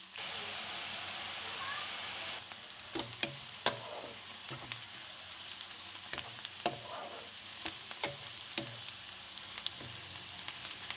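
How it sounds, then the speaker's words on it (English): Sliced onions and slit green chilies frying in hot oil in a pan over a medium flame: a steady loud sizzle at first, then a softer hiss broken by frequent crackles and pops, with no voices. "Now heat oil in a pan. Once hot, add your sliced onions and slit green chilies. Fry them on a medium flame"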